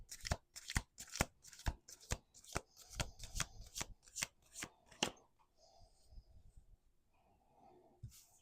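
Tarot cards are shuffled in quick, crisp riffles, about a dozen sharp snaps in a steady rhythm up close, then fading into quiet rustling and a last faint flick.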